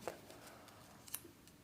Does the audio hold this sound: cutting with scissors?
yes